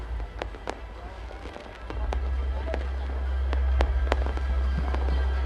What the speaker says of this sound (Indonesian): Kita sama-sama saksikan bahwa ini adalah pertunjukan kembang api yang merupakan terbesar di Indonesia yang dilakukan di Ancol.